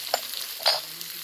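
Chopped tomato with turmeric, salt and chili powder fries in a pan for a tilapia fish curry, a brief close sizzle broken by two quick stirring scrapes, with no talking.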